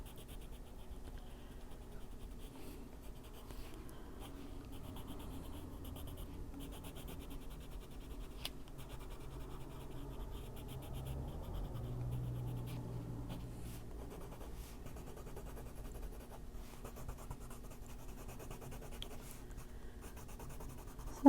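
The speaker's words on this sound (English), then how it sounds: "make sure that everything here gets some coating of color from the pencil" A colored pencil scratches across paper while coloring a puffer fish in an adult coloring book, a quiet continuous close-up scribbling texture with small irregular strokes throughout.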